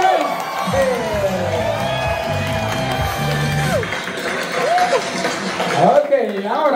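A studio audience at a family game show cheers and applauds. The crowd noise is loud and steady, with music and voices running underneath.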